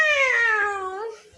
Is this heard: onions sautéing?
no